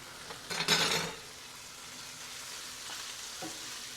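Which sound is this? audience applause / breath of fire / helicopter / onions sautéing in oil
onions sautéing in oil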